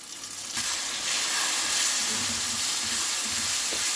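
Steady hissing sizzle of ginger garlic paste frying in hot oil, close and continuous, with faint clinks of stirring and no voices.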